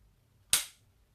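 A DJI Mavic Air drone battery snaps into its slot with one sharp, close click, alone against a quiet background.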